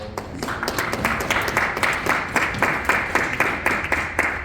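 Hands clapping steadily at a Harvey city council meeting, a quick even run of claps that goes on without a break, fairly close and clear with no voices over it.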